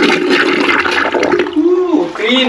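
A household toilet flushing right after being cleaned, a steady rush of water with a gurgling refill toward the end, close by, with a voice talking over the first part.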